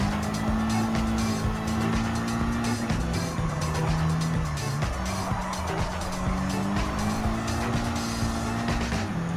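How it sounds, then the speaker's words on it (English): A 2020 Honda Civic Type R Limited Edition FK8 laps a Gran Turismo 7 time trial, its engine note rising and dropping through gear changes with bursts of tire squeal, steady and continuous. "trying out the 2020 Honda Civic Type R with the title"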